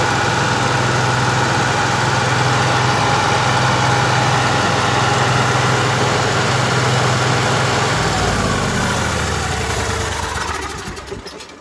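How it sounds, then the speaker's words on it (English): Generator on a 2016 Forest River Georgetown 364 TS RV, a loud steady engine drone with a low hum, running continuously before winding down and fading near the end. "and then and there's your generator."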